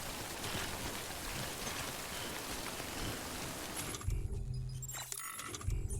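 Steady rain pours in the video game Death Stranding, a dense even hiss that gives way partway through to quieter game ambience with low hum.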